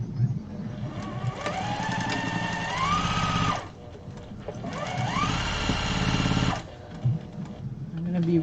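A sewing machine stitches a Broken Dishes quilt in two fast whirring bursts, each rising in pitch and then stopping abruptly, with a brief pause between and a voice speaking alongside.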